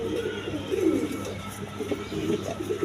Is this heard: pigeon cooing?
yes